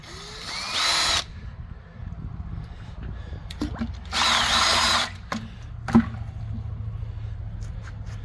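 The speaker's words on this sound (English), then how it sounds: "You can also use a drill mixer" A drill mixer stirs floor coating and hardener in a bucket, whirring in two short loud bursts of about a second each, separated by quieter handling knocks and clatter.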